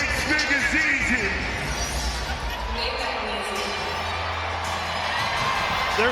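A Detroit boxing crowd cheers and whoops steadily all the way through. The noise is dense, loud and sustained, with voices shouting inside the arena roar.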